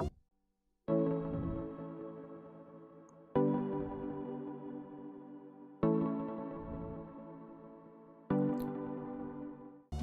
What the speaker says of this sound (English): there's another sound which is more like a plucky sound also